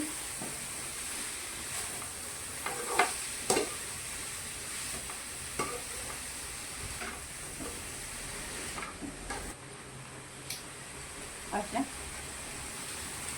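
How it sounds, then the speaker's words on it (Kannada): Soft steady sizzle from a pan with intermittent scraping and clacking of a spoon stirring vegetables for vegetable kurma, close by and fairly quiet. "ಇನ್ನೊಂದು ಎರಡು ನಿಮಿಷ ಎಲ್ಲನೂ ಹುರ್ಕೊಂಡ್ಬಿಡೋಣ್ರಿ"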